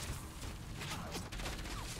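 Gunfire in the video game Enslaved: Odyssey to the West, a dense rattling fusillade of rapid shots over a rumbling background, loud and continuous through the short moment.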